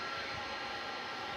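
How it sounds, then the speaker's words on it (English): An Airbus A300 jet taxiing after landing at DFW airport at night, a steady broadband engine roar and whine heard from a distance, constant and unbroken throughout. "The noise you hear is that A300 that just landed, which is moving into position now to park."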